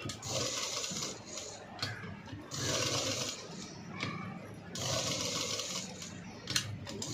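An electric sewing machine stitches a V-neck cut-work blouse, running in three steady whirring bursts with short pauses between them, close and moderately loud with faint talk in the background.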